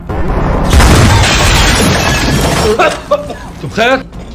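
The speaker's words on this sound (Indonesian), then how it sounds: "Kemudian datang mobil ISIS yang tiba-tiba langsung meledak." In a war film, a car bomb explodes in a loud blast with a crashing, shattering roar that slowly decays, followed by several short shouting voices.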